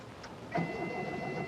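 A car engine turns over and catches with a short burst, then settles into a steady hum with a faint high whine.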